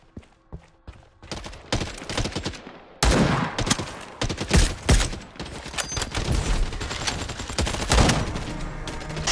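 Shooter video game gunfire: sniper shots and other weapon fire crack in quick irregular bursts, loud and close, with short gaps between volleys and dense rapid fire toward the end.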